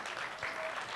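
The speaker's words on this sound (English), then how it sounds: "Can we have a big round of applause for them?" Brief, soft applause from a university orientation audience, a continuous faint hiss of many hands clapping at a distance, lasting about a second.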